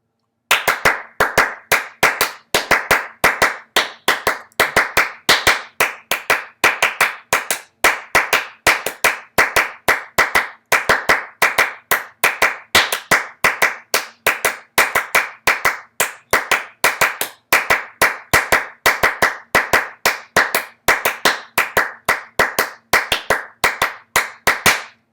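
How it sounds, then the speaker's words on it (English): One person claps a repeating Clapping Music rhythm alone, with sharp, close hand claps in quick irregular groups separated by brief gaps, steady and loud for about 25 seconds. "I'm going to clap this one rhythm."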